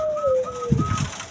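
Pigeons in a small cage give soft cooing calls during courtship before mating, with a thin whistling tone and a brief rustle of wings, close and fairly loud.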